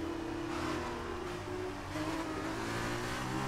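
A race car engine in the F1 2019 racing game holds a steady, loud high-revving drone that dips slightly and climbs again, running continuously throughout.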